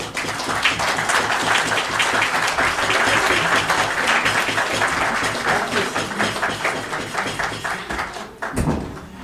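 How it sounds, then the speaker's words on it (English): Loud, sustained applause from an audience at a luncheon fills the room for several seconds, then tapers off into a few scattered claps and a thump. "So please give a big round of applause"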